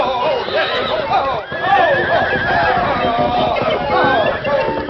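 Palomino horses neighing and whinnying repeatedly in a 1945 Lone Ranger radio drama, loud and near over a busy backdrop of voices and commotion.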